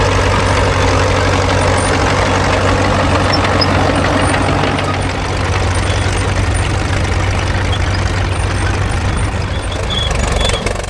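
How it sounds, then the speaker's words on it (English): A 1948 Caterpillar D2 crawler tractor idling nearby at a vintage farm show, a steady loud low-pitched engine rumble running without a break and with no talk. "A 1948 Caterpillar D2."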